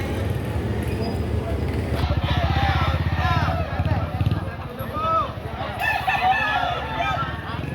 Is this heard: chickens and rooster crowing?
yes